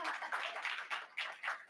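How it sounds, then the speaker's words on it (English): Light applause at a press conference for the 2026 National Speech & Debate Tournament, a short run of quiet, uneven clapping from a small group, faint and distant. "Round of applause, yes."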